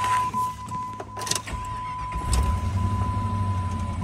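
A 2001 Jeep Grand Cherokee Limited with a 4.7L V8 cranks briefly and starts, settling into a low steady idle, close and moderately loud, with a faint constant electronic tone running throughout and no voices.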